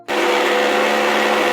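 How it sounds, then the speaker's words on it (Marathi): A mixer grinder starts abruptly and runs at a steady, loud whirring pitch while blending ginger and green chilli chutney with salt, with no talk over it. "आता हे आपण चांगलं मिक्सरला फिरून घ्यायचं आणि याची चटणी बनवायची टिक्की बरोबर खाण्यासाठी"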